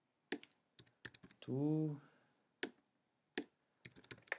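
Computer keyboard typing during an HTML/CSS dropdown-menu tutorial, sparse crisp clicks in small clusters with pauses, close and clear, with someone speaking briefly in French between keystrokes.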